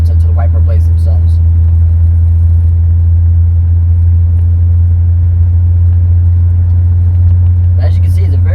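A 1990 Eagle Premier cruises along with a deep, smooth, steady rumble from inside the cabin, loud and unbroken, with faint brief voices at the start and end.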